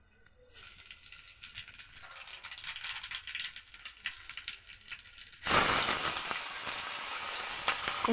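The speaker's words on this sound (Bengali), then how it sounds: "তারপর আলুগুলোকে ভেজে নিতে হবে।" Potatoes fry in oil, starting as a soft, crackling hiss with light spitting that suddenly jumps to a loud, dense, continuous sizzle partway through.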